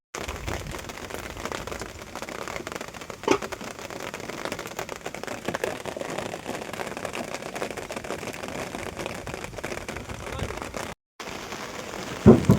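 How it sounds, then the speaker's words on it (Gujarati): Rain falling on a farm during groundnut threshing, a steady, fairly soft hiss of drops that continues without a break and has a brief dropout near the end. "વરસાદ વધવામાં જ છે."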